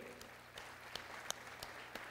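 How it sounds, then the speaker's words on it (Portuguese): A round of applause at a formal session in the Brazilian Chamber of Deputies honouring Infraero's 45th anniversary, with faint, sparse clapping from an audience and a few sharper individual claps standing out. "eu também peço uma salva de palmas para o quadro de trabalhadores da Infraero"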